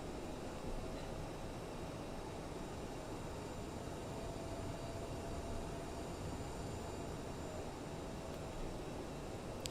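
An Air France CRJ-1000 airliner taxis toward runway 27 left in Microsoft Flight Simulator 2020, a faint, steady engine hum and airy rush holding even throughout with no talking.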